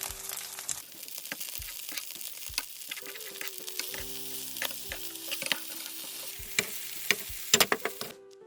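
An oyster pancake fries in a pan over medium to medium-low heat, giving a steady close sizzle with scattered crackles and soft scraping, and no voices.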